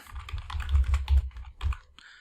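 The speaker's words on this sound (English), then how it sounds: "let's start typing that in" Rapid typing on a computer keyboard, close clicks in quick irregular bursts, pausing briefly before a final few keystrokes.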